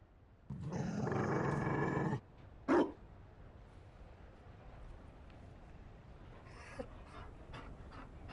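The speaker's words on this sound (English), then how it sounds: "You found a dog? They don't breed Mabari in Olay." A Mabari war dog in Dragon Age Inquisition pants in a single loud, breathy burst lasting about two seconds. A short huff and a few faint sniffs follow over a quiet game backdrop.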